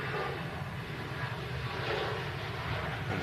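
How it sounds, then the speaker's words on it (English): A KLM airliner departs along the runway, its jet engines giving a steady, continuous broadband roar that holds at a fairly constant level throughout without any speech over it. "I'll let this KLM depart"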